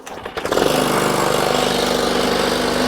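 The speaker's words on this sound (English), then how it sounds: "There's that rattle. That's that blade brake clutch underneath just shaking to pieces." A thirty-year-old John Deere 14SB walk-behind lawn mower cranks and catches, then runs loud and steady at close range while its worn blade brake clutch underneath keeps up a rapid, shaking rattle.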